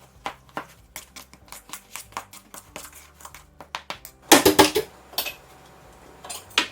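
A spoon mixes keto chocolate chip cookie dough in a bowl, making close, uneven clinks and scrapes against the bowl, with a brief louder clatter near the end.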